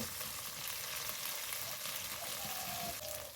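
Spice paste with salt frying steadily in a pan for potol posto, a constant low hiss and sizzle with a faint brief tone near the end and no talking.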